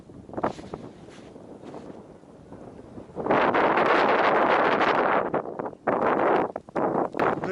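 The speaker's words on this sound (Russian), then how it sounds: "Сегодня просто ветер сильный. 13 метров в секунду." Strong wind of about 13 metres per second gusts across a beach on Akhlesteyshev Bay, Vladivostok, in October. A soft rumble swells into loud, roaring buffeting against the microphone that nearly drops out, then surges back in bursts.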